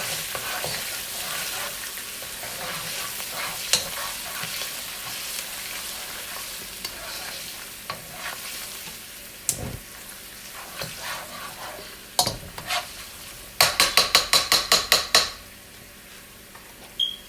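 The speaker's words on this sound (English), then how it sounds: "that ginger has juice in it, so it's gonna splatter" Ginger and beef hitting a hot pan, a loud, constant sizzle and spatter with scattered clinks of cookware. A quick run of sharp metallic taps comes near the end.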